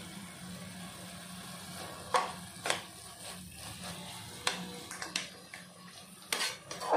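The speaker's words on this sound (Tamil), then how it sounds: "நல்லா தேங்காய் பருப்பு எல்லாம் சேர்த்து நல்லா கலந்து விட்டாச்சு." Coconut and dal stirred into an agathi keerai stir-fry in a pan, with scattered clinks of a spoon against cookware over a soft steady background hum; no talking.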